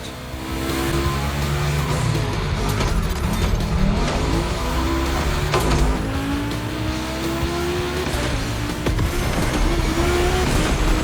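Volkswagen cars race on a track in The Crew Motorfest, a continuous loud engine roar with rising and falling gear pitches, tire squeals and cars passing close by throughout, with no talk.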